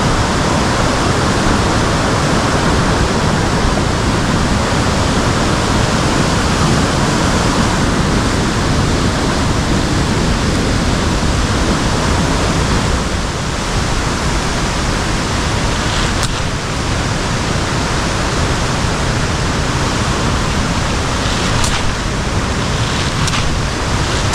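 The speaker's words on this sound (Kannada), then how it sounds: "ಮಳೆ ಜೋರಾಗಿರೋದ್ರಿಂದ ನೀರು ಯಾವ ಥರ ಬರ್ತಾ ಇದೆ" A loud, unbroken roar of water gushing after heavy monsoon rain runs throughout, dense and constant like a flooded channel rushing close by, with no voices.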